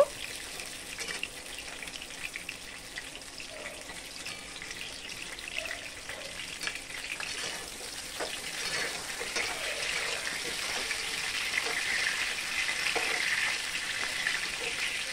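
Close, continuous sizzling of pointed gourd (potol) frying in oil, with light stirring clicks; the hiss builds gradually louder over the second half.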